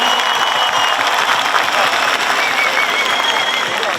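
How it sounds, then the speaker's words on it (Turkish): Concert crowd applauding festival workers at a large outdoor show, a dense, sustained roar of clapping and cheering throughout. "hepinizden bir alkış bekliyorum onlara."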